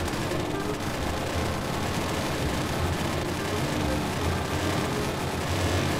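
Gunfire strikes a wooden crate in Melon Playground until it breaks apart, a dense, steady crackle of rapid shots with bursts of splintering that fills the whole stretch without any voices.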